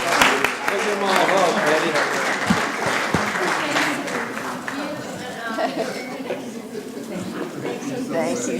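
Steady applause from the audience at a city council meeting in Columbus, Georgia, with people chatting and talking over it as it continues for several seconds at moderate loudness.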